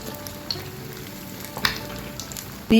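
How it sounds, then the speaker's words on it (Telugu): Egg bajji, boiled eggs in gram-flour batter, frying one by one in hot oil over a medium flame: a steady close crackling sizzle with a few sharper pops and a loud clatter right at the end. "ఇలా ఒక్కొక్కటిగా ఫ్రై చేసేసుకోవాలి"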